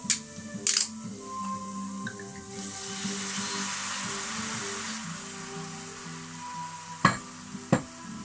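Wine poured into a hot pan for a fish pie bursts into a steady, close hiss of sizzling that holds for several seconds, with a few sharp clicks and clatters of utensils at the start and end.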